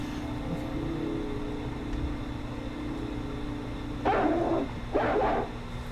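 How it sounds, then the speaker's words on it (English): A dog barks twice in quick bursts late in the scene, fairly close, over a steady background hum and faint music. "Okay, doggy."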